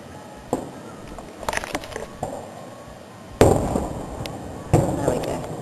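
Fireworks go off outdoors in a handful of sharp booms and crackling bursts spread over several seconds, each with a ringing tail, and faint voices can be heard around them.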